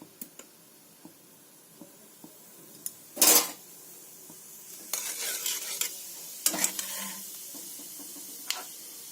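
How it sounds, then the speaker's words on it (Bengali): Half a spoon of cumin seeds dropped into hot oil for a Bengali Malabar spinach seed stir-fry, with a sudden crackling burst, then intermittent sizzling and utensil clinks against the pan, close and quiet, no speech. "তেলটা গরম হয়ে গেছে, দেব হাফ স্পুন জিরা।"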